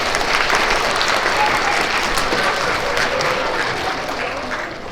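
Steady audience applause fills a school assembly for PreK to third grade students, a dense continuous clapping from a sizeable crowd that holds for the whole stretch and eases slightly at the end.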